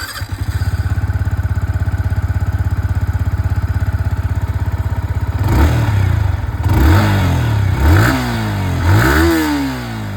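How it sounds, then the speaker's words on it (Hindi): Yamaha XSR 155 motorcycle engine and exhaust running at a steady, loud idle, then revved several times in rising and falling bursts, close and with no talk over it. "और अब मैं आप लोगों को यहाँ पर जो XSR 155 की आवाज़ है वो भी सुना दूँ।"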